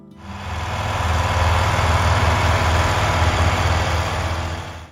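A John Deere 3020 tractor engine runs at idle with a steady low rumble and even vibration, loud and close, with no voices.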